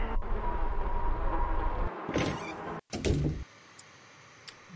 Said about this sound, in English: The door is unlocked.